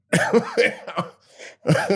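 Several sharp coughs in quick succession, close by, followed after a short pause by another burst of coughing.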